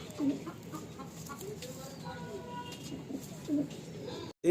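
Kalanka high flying pigeons kept for sale give a few short, low coos at the start, near the end and right at the finish, against a murky background of fowl and loft noise.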